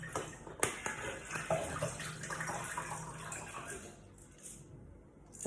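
Water is poured into a pot of rice in a soft, splashy trickle with a few drips, faint and close, while a person talks quietly in the background.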